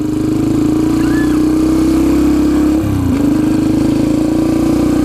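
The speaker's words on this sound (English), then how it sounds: "this bike will get really loud if you give it full throttle and the RPMs start to get up there" A Yamaha TTR 125 dirt bike runs under steady throttle, its small single-cylinder engine holding a constant close buzzing drone with a brief dip near the middle before settling back to the same note.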